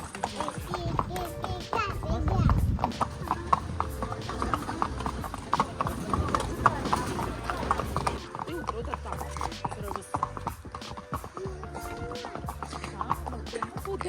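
Horse hooves clip-clop steadily along a trail in Matheran, the rhythmic clopping close by while family members, including a child, talk over it.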